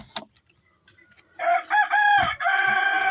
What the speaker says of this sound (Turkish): Tavukların kümesini açacağım.